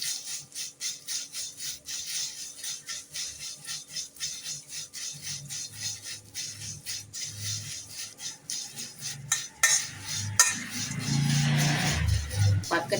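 Dried avaram flowers are dry-roasted in a pan for herbal tea, with a spatula scraping and stirring them in quick, rhythmic strokes. Partway through, a louder rustling, rumbling stretch takes over near the end.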